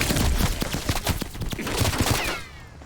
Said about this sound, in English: It's a AK-47 with quite the modifications to it.